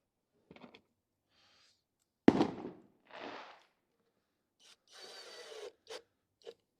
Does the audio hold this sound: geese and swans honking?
no